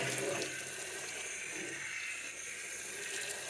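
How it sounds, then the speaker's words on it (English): Water from a hose rushes steadily over brewing equipment outdoors, a continuous hissing spray that stays fairly even throughout. "give everything a good flush with the hose,"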